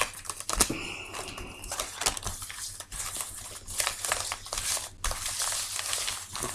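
Oracle cards being shuffled by hand make close, quiet papery riffles and soft slapping taps in irregular bursts, with crisp crinkly rustles throughout.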